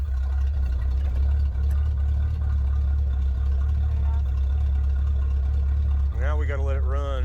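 A 1977 Chevrolet C20 truck engine idling steadily, a loud low rumble throughout, with a person's voice briefly speaking near the end.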